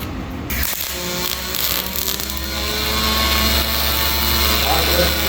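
Arc welding with an HTP Pro Pulse 220 on dirty quarter-inch frame liner material, a steady loud crackling hiss with irregular pops throughout.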